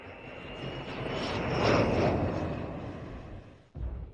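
An airplane comes in to land, its broad engine roar swelling to a loud peak midway and then easing off before cutting off abruptly near the end, with a brief low rumble afterward.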